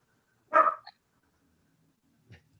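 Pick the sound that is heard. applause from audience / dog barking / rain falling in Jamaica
dog barking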